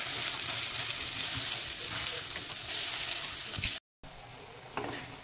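Dal with turmeric stirred and sautéing in hot oil, a steady close sizzle with scraping stir sounds, briefly cut off before resuming more quietly.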